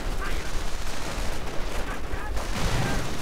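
Assault rifle fire crackles in dense, overlapping bursts during a World War II strategy video game battle, with explosions and rumbling underneath throughout.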